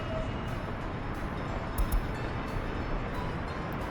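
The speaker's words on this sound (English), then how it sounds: "looks like the other train is done" Train running in the city-building game Workers & Resources: Soviet Republic, a steady broadband rumble of rolling rail cars with a couple of brief louder clanks partway through, continuous and without speech.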